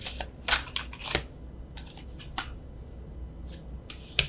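Tarot cards being overhand shuffled by hand in short, irregular bursts of riffling and slapping, close up with quiet pauses between.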